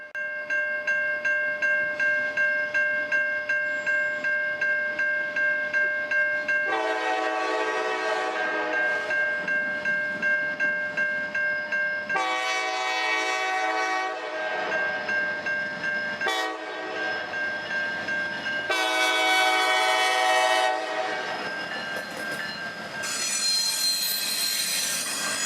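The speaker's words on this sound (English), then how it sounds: "My attention was soon drawn back to the railroad as an NS Intermodal was approaching," A Norfolk Southern intermodal freight train led by an SD60E locomotive approaches in the early morning, its horn blowing in long, loud, repeated blasts over a steady rumble of engine and rolling wagons.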